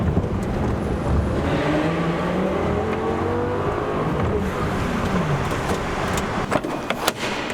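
A Lamborghini engine booms and reverberates while driving through a tunnel in Chicago, a sustained rumbling drone with rising revs and echoing wash, moderately loud with some clicks near the end.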